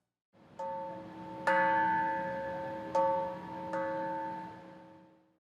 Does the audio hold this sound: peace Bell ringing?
yes